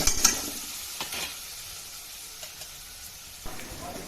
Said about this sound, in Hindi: इसमें मैं डालूँगी टमाटर, और टमाटर को मैं लगातार भूनती रहूँगी जब तक कि ये गले ना